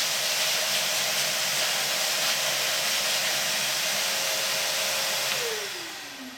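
A shop vacuum blasts air out through its clogged filter in a loud, steady whooshing roar that holds constant, then winds down with a falling pitch near the end as the motor slows.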